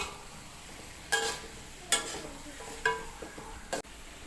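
Spices and aromatics such as lemongrass, galangal, lime leaves, bay leaves and onion frying in oil for an Indonesian chicken and egg stew. A soft sizzle runs under several sharp stirring scrapes and knocks of the utensil against the pan.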